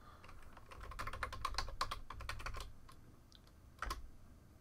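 Rapid keystrokes on a computer keyboard as a new password is typed for an R credentials keyring, a dense burst of close clicks for about three seconds, a pause, then a few final taps.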